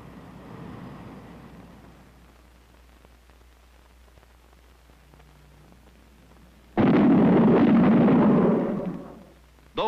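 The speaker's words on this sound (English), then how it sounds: "Those bangs were shock waves from an aircraft in transonic flight." Shock wave bangs from an aircraft in transonic flight: a sustained rumbling roar at first, then a quieter stretch, followed by a sudden loud, broad blast that holds for about two seconds before cutting off, with another burst at the end.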